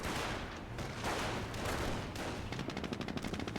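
Continuous gunfire strikes a rifle squad in Company of Heroes, with dense overlapping rifle and machine-gun shots that end in a fast, rhythmic automatic burst.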